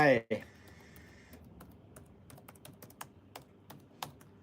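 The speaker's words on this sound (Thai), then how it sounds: "ใส่พาสเวิร์ดลงไป" A password is typed on a computer keyboard while logging into a Raspberry Pi, with a brief voice at the start, then soft, irregular key clicks spaced across several seconds.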